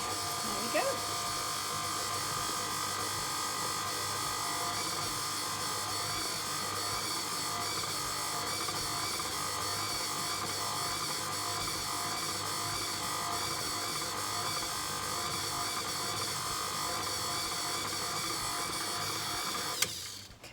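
An electric hand mixer runs steadily through blueberry muffin batter for about twenty seconds, a continuous close whirring buzz that holds an even level before cutting off abruptly at the end.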